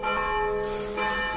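Monastery church bells in Montenegro ring continuously, their overlapping tones humming and resonating, with fresh strikes layered on the sustained ring.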